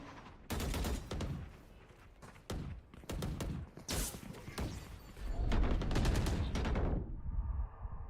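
Gunfire in Valorant during a collegiate esports match: several loud bursts of rapid shots come in clusters with short gaps between them, ending in a quieter hum.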